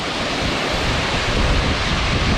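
Tad Yuang waterfall in southern Laos, a steady, loud broadband roar of falling water that fills the whole stretch without breaks, with no voices over it.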